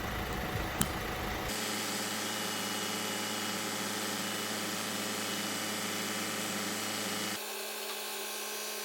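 A Vauxhall Insignia 1.6 CDTI diesel engine idles with a steady, even hum and a constant low drone for several seconds, then the tone shifts slightly near the end.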